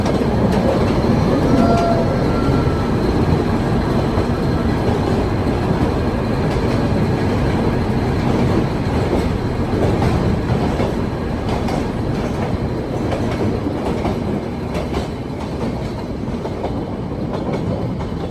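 Ooty toy train running on its tracks, a steady loud clickety-clack of wheels with occasional squeal, continuous and close throughout with no talk.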